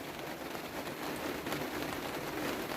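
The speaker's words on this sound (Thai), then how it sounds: "ฝนตกพายุเข่ามานี่ตกหนักเลยว่าสัน" Heavy rain pours steadily outdoors during a stormy spell in a rural Thai garden, a dense continuous hiss of drops drumming on surfaces, close and loud with no pauses.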